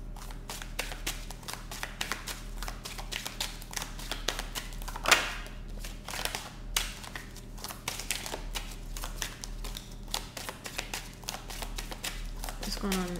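Tarot cards are shuffled close by in a quiet room, giving a continuous run of soft papery riffles, slaps and clicks with an uneven rhythm for over ten seconds.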